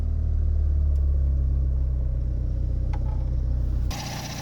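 Worn Austin Allegro engine idling with the choke pushed off, a steady low mechanical rumble that holds even before dropping abruptly in pitch and tone near the end, with no talking over it.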